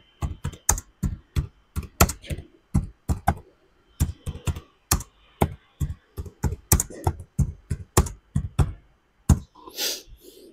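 Fingers type on a computer keyboard, a quick, uneven run of close, crisp key clicks in short bursts with brief pauses, heard alone without any talking.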